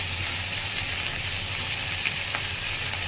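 Vegetables such as pumpkin, eggplant, spinach, pointed gourd, cauliflower, tomato, potato and carrot hit hot oil with fried onion and garlic in a pan, giving a loud, close, continuous sizzle with faint crackles and no talk.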